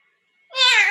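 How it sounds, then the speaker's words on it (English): A house cat gives a single close, loud meow that rises sharply out of near silence and holds to the end. "Go meow at Mama."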